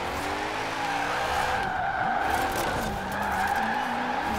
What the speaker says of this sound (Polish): Driftem ładnie, akurat ten zakręt fajnie mi wyszedł.